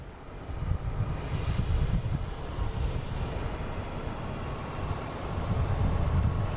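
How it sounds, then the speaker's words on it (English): A JetBlue airliner arriving from San Francisco at Boston Logan Airport gives a distant, rumbling engine drone that swells and eases slightly, mixed with some wind noise and no talk. "the JetBlue coming in from San Francisco"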